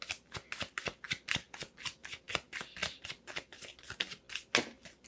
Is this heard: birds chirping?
no